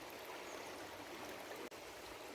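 A fast-flowing river rushes steadily past a shallow fishing swim at Bartonsham, a faint, even wash of water with one tiny break, and no voices.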